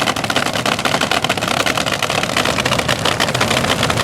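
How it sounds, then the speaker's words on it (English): A nitro-burning front-engine top fuel dragster on a 2011 Sterling chassis idles loudly and roughly, a dense crackling roar that holds steady throughout without a break. "you can see the car kind of trembling back and forth as that nitro-burning engine idles away"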